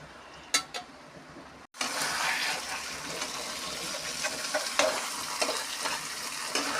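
Pointed gourd curry with sesame (til potol) bubbling and sizzling in a pan, a continuous frying hiss after a brief clatter and short silence, close and moderately loud with small pops.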